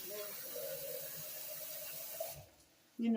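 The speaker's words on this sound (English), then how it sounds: "I'm going to add a little bit of water to it" Water running from a tap into a cooking pot for chicken, a continuous close splashing pour that stops near the end, followed by a brief clatter.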